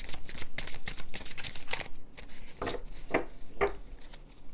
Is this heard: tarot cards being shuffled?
yes